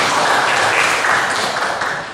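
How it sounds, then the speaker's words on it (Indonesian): A classroom group in Indonesia breaks into loud, dense applause, a continuous wash of many hands clapping that fades slightly toward the end. "Tepuk tangan."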